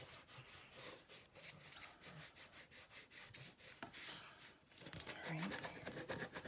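Rhythmic rubbing strokes across a glued paper cover of a handmade mini album, soft scraping passes repeated close up, with a voice speaking over part of it.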